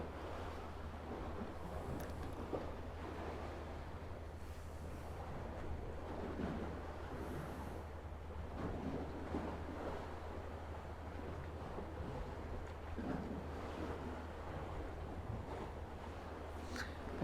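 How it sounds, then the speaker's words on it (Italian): Lake water lapping gently at the shore along a calm walking path, a soft continuous wash with low wind rumble on the microphone, faint and steady, no voices. "vi faccio sentire proprio il rumore dell'acqua del lago, della tranquillità"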